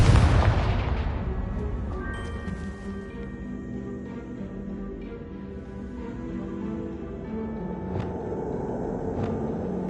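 A Confringo explosive spell in Hogwarts Legacy lands as a single loud boom up front, then a long rumbling decay with a ringing magical tail and a few faint later pops.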